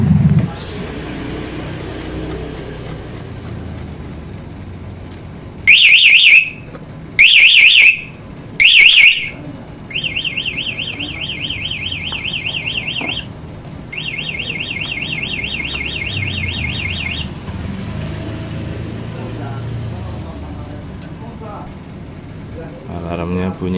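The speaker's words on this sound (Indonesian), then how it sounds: "Alarmnya bunyi ya, ini karena sifatnya berbunyi ada yang maling gitu" A loud electronic motorcycle anti-theft alarm on a Honda Vario 150 blares in short bursts, then switches to longer warbling wails, with someone talking before and after.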